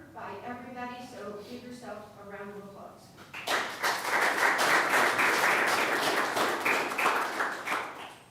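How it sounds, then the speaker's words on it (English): At a city council meeting, a voice speaks briefly before the gathered attendees erupt into loud, dense clapping that carries on steadily for several seconds, rising quickly and then tapering slightly toward the end. "give yourself a round of applause"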